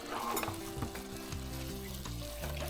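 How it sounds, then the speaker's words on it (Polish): Chicken bigos simmers in a pot while it is stirred, giving a soft continuous sizzle and bubbling with faint scraping, plus a steady low hum in the background. "Przemieszam."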